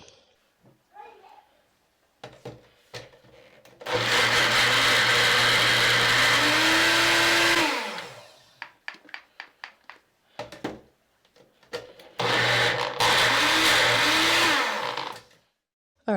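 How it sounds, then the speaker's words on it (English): A blender pulses aloe vera and oils in several loud bursts, a long whine with a rising and falling pitch followed by shorter pulses, separated by clicks and quieter gaps. "put into the blending cup and just pulsate until smooth."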